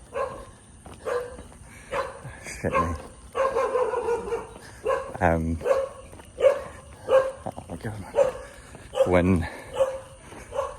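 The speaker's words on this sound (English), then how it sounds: "there's like two sets of dogs, they just barking at each other" Two groups of neighbouring dogs bark at each other along a dark road in Vietnam, with sharp barks and yips rising in scattered bursts while a nearby person talks and exclaims over them.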